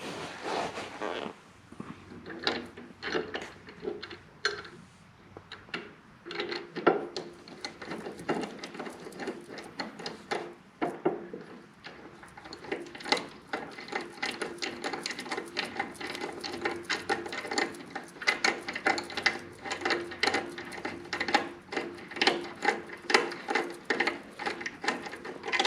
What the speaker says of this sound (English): we're gonna put in the bolt for the bottom